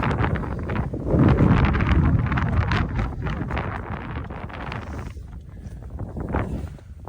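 Strong mountain gusts of up to 50 mph on Helvellyn buffet the microphone, rumbling and rising and falling in loud surges with no voices.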